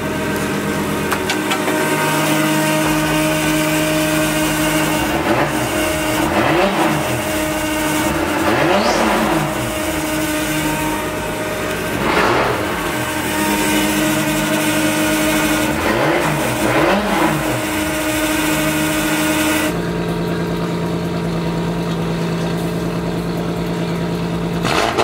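A car engine in a workshop runs steadily throughout, with repeated revs rising and falling in pitch before settling to a steadier idle near the end, loud and close.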